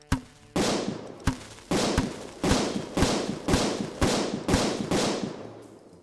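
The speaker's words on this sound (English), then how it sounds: "I have firecracker launcher, so" Firecracker launcher in the Cooking Simulator video game firing eight sharp, loud blasts in a steady rhythm, each bang trailing into a brief crackling decay, with no voices.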